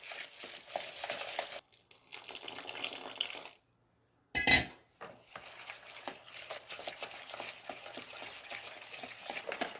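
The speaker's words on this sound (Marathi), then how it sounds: "आता त्याच्यामध्ये ना आपल्याला थोडं थोडं दूध टाकून त्याचा आहे ना एक छानसा बॅटर तयार करायचा आहे." Milk is poured little by little into a yogurt batter and mixed, producing close, rapid wet stirring and sloshing that runs in stretches, with a short silent pause and a brief louder splash midway.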